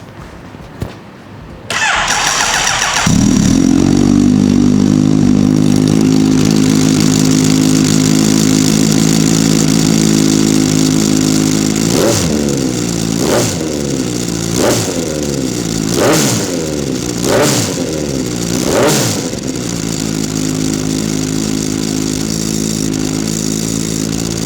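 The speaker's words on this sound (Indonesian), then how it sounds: "Kawasaki Z900 RS ini sekarang suaranya ada dry clutch kit-nya." A Kawasaki Z900RS motorcycle fitted with a dry clutch kit cranks briefly, catches and settles into a loud, close idle, then gets five sharp throttle blips before dropping back to idle.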